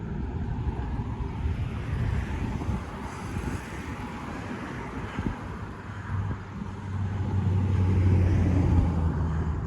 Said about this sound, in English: Very peaceful, except for the cars zipping by like 20 feet in that direction